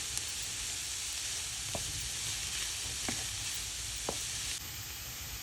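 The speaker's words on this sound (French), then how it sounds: "Puis ajoutez les champignons aux échalotes et cuire pendant environ 3-4" Mushrooms and shallots frying in a pan, a steady even sizzle with a constant high hiss, broken by three or four faint taps of a utensil.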